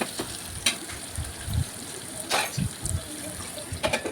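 Chopped onions frying in oil with mustard seeds and fenugreek in a pan, soft crackles and sizzle with occasional stirring scrapes, close and moderately quiet.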